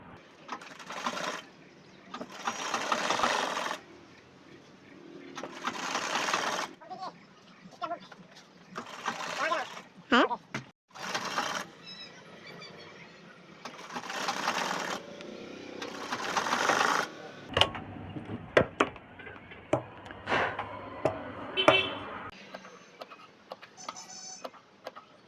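A sewing machine attaches the neckline to the body of a churidar top. Several short bursts of rapid mechanical stitching alternate with someone speaking between runs.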